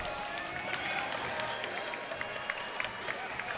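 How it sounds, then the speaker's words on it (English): A men's college volleyball team, Mohawk, applauds opponents Georgian in a gym after a match, scattered clapping and crowd noise blended with footsteps and murmur, continuous and fairly distant. "Nice class act by Mohawk to give Georgian a nice round of applause."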